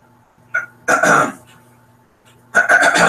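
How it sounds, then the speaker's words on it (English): A man with a cold clears his throat in a few rough, raspy bursts, close and loud, the harsh rasps separated by a short pause. "He's clearing his throat."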